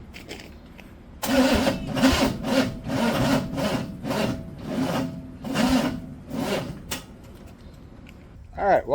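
A 1982 Chevrolet C10 truck engine idles and revs in uneven pulses, close and loud, as the throttle is worked by hand, with a brief voice near the end.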